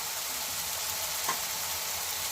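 Ground coriander, cumin and turmeric fry in oil for a mixed-vegetable curry, giving a steady, close broadband sizzle with a single light clink of a spoon on the pan partway through.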